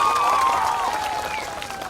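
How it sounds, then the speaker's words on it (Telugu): A large crowd at a public event with Chief Minister Chandrababu Naidu in Kuppam applauds steadily, a dense wash of many hands clapping at a distance, with a faint tonal whine running underneath. "గట్టిగా చప్పట్లు కూడా అందరూ అభినందించారు"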